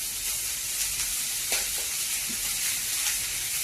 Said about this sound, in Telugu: ఉల్లిపాయలు వేసుకొని వేపాలండి.